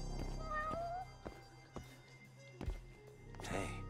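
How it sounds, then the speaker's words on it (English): A cat meows in the PS4 detective game Judgment, a couple of short mid-pitched mews over steady game background ambience and a few soft footstep-like thumps. "look, a cat."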